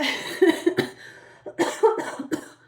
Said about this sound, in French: je pense que j'ai pogné la toux à mon chum